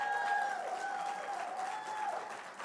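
Graduates at a VCU Kente ceremony clap for themselves, a steady, dense wash of crowd applause that fills the whole stretch, with a faint thin tone running through it.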